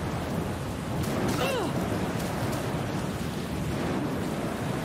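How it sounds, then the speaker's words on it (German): Heavy rain with a rumble of thunder from the video game Dead Age: a loud, constant downpour hiss throughout, with a brief thunder swell early on and no talk. "der Regen ist immer so extrem laut"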